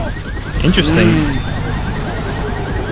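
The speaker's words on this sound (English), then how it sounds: "That's the alarm car." A car alarm in a Left 4 Dead 2 competitive match wails with fast repeating electronic chirps, steady and moderately loud, under game noise while a commentator speaks over it.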